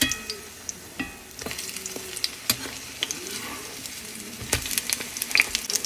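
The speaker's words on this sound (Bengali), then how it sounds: "কুমড়ো ফুলগুলো ভাজা করে নিচ্ছি।" Pumpkin flower fritters fry over low heat in a pan, a steady sizzle broken by sharp spatula clicks and scrapes as they are stirred and turned, close by and without talk.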